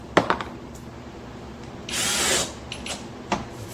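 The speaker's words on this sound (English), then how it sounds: "grab my flathead screws, and just sink just enough" A power drill drives flathead screws into wood: a few sharp knocks, then one short, loud whir of the drill lasting about half a second, followed by more light handling clicks.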